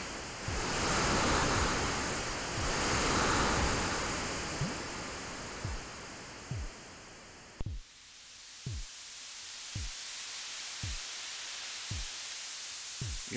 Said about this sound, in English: that's the sound of the ocean